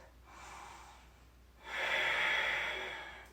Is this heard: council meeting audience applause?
no